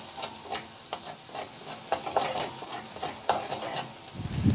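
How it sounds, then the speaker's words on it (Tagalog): Garlic sizzles in a hot frying pan while being stirred, with a steady crackling fry and sharp spatula scrapes and taps against the pan, close and continuous. "Sa disim na kawali, igisa ko na yung bawang."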